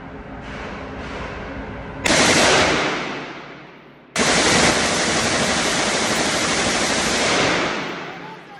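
Two thunderous volleys as four guns are fired at once, each a loud, sharp crack that trails into a long, noisy roar and decay, with no talking over them.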